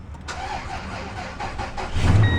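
A used car with 169,000 miles and a weak battery, jump-started with cables and a jumper pack, cranks in quick rhythmic pulses for about two seconds before catching and roaring up to a louder idle close by.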